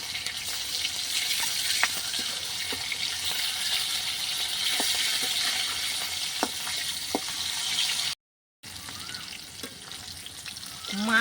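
Pieces of snakehead fish frying in a pan give a continuous close sizzle with occasional sharp pops and spatters, broken by one brief gap of silence, with a faint clink near the end.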